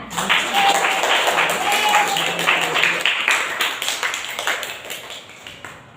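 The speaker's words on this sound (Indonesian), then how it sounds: "Tepuk tangan." High school students in a classroom clap together in a dense, lively round that stays steady, then thins into scattered claps and fades toward the end.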